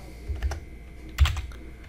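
Keys clack on a computer keyboard as a Google Chrome command is typed into the address bar, with two brief bursts of keystrokes near 0.3 and 1.2 seconds and quiet room tone between them.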